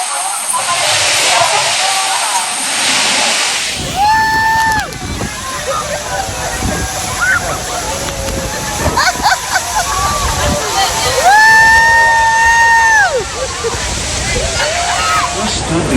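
Niagara Falls pours in a broad, steady roaring rush of water throughout, with a voice speaking over it and whistle-like tones rising briefly at times.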